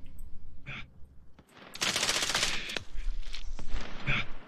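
Rapid automatic gunfire in Call of Duty Warzone rattles in a sustained burst after a few isolated shots, loud and close, with no talk.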